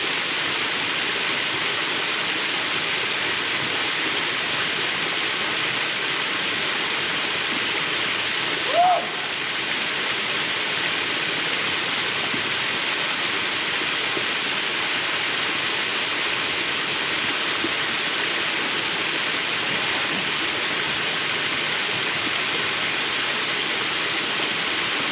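Round Island Falls pours in a steady, loud, unbroken roar of rushing water that stays even and close for the whole stretch, with only one brief faint blip partway through.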